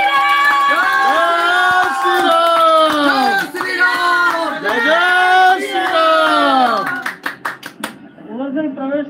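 A crowd claps after a puja ceremony at the Ram Mandir consecration, the scattered applause sitting beneath a loud, sustained singing voice that dominates throughout.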